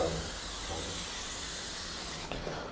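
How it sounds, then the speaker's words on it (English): A spray can hisses in a long continuous burst as paint goes onto walls in a property being developed, stopping near the end and followed by a faint clatter. "And I get to spray paint."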